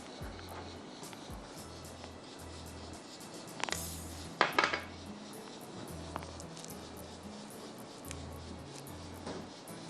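Chicken tikka and mashed potato mixture mixed in a bowl, quiet soft squelching with a low electrical hum beneath and a short burst of bright clinking of utensil against the bowl midway.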